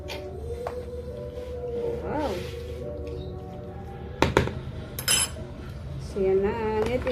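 Buko salad being stirred with utensils in a bowl, giving scattered clinks and scrapes of metal against the dish over a steady low background hum, with a couple of louder knocks midway.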